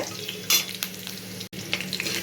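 Frying in a pan over a village-style kofta curry preparation, a soft steady sizzle broken by a few stirring clinks and scrapes, with one short dropout in the middle and no talk.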